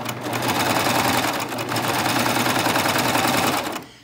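A cover stitch sewing machine hems a top in the round, running at a steady fast whir close by for nearly four seconds, then stopping abruptly.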